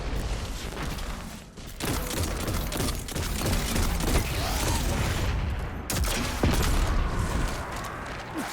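Dense gunfire and grenade blasts in Destiny 2, fought in the Veles Labyrinth legend lost sector, crackle and boom loudly and continuously with brief lulls between volleys.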